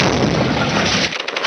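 An artillery shell bursts with a dense, roaring rumble that sustains for about a second, then breaks into crackling debris and a renewed rush of noise.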